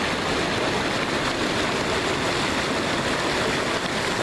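River water at Elliot Creek rushes steadily in a dense, unbroken wash, close and fairly loud for the whole stretch, with no voices over it.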